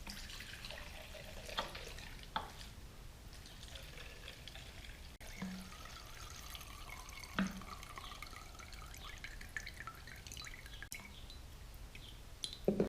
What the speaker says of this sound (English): Let it finish dripping.